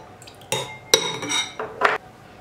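A wire whisk beats a thin sauce of tomato paste, water and oil in a bowl, giving a few quick metallic clinking bursts with short quiet gaps between them.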